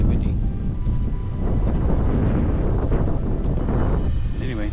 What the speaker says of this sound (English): for this time of day it's amazingly windy